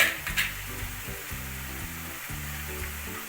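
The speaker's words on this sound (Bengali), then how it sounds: "পেঁয়াজ আদা রসুনের একটা পেস্ট বানিয়ে রেখেছিলাম আর দুটো কাঁচা লঙ্কা দিয়ে সেই পেস্টটা দিয়ে দিলাম দিয়ে আমি ভালো করে কষিয়ে নিচ্ছি" Onion, ginger, garlic and green chilli paste sizzling in a hot pan as it is stir-fried, a steady close crackle with soft stirring scrapes and no talk.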